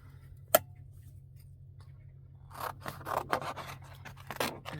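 Scissors snipping through a piece of thick cardstock, a single sharp snap followed by a run of rapid crisp cuts, close and clear over a low steady hum.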